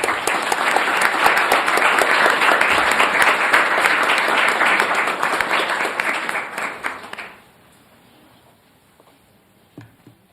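A room full of people applauds at a school board meeting, loud and sustained clapping for about seven seconds that fades out abruptly into near silence with one faint knock.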